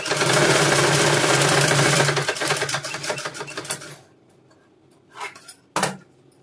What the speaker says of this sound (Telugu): ఫోల్డింగ్ చేసుకొని స్టిచ్చింగ్ అయితే ఇలా వేసుకోవాలి.